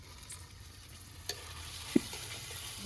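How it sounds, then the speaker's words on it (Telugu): Washed chicken added to ginger garlic paste frying in a pan, producing a soft, low hiss of sizzling with a couple of isolated sharp clicks from the spoon or pan. "ఇప్పుడు దీంట్లోకి మనం ముందుగా కడిగి పెట్టుకున్న చికెన్ వేసుకుందాం"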